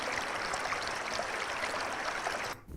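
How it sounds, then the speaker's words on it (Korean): Running water flows as a steady, dense rushing wash with no pauses, then cuts off abruptly just before the end. "물소리도 있고요."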